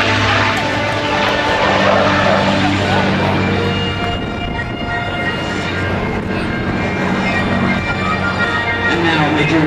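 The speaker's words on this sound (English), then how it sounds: "Mr. Lee Lauderback and the P-51 Mustang" A P-51 Mustang propeller aircraft flying at the Tyndall AFB airshow, a loud continuous droning engine roar that swells and fades as it passes, with an announcer's voice over a public address.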